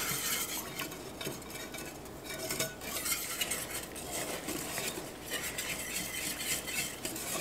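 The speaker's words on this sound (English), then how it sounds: "you want to continue to whisk until that is all absorbed" Broth being whisked into a thick, slurry-like mixture for a ham pot pie, quiet repeated scraping and clinking of a whisk against the pot over a low sizzle, no talking.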